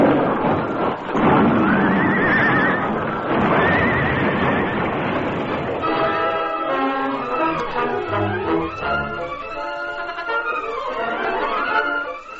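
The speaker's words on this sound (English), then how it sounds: "The hoofs of both horses clattered on the heavy planking" A radio-drama effect of two horses crossing heavy bridge planking: loud, close neighing and whinnying at first, then steady clattering hoofbeats on wood, with no voices.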